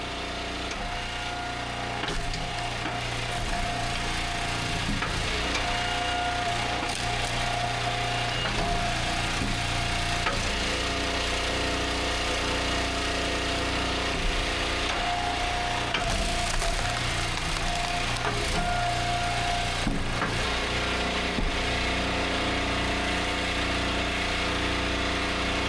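A small engine idles steadily on an Eastonmade Ultra firewood splitter, a continuous mid-level drone throughout with a faint whine rising twice and occasional wooden knocks, no talking.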